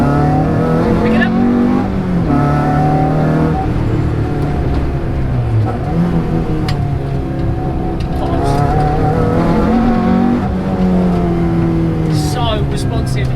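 A Renault Clio 182 drives hard around a track, its engine revving up and down continuously with rising and falling pitch as gears change, loud and close, while a voice talks over it.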